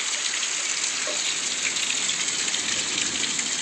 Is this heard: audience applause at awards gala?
no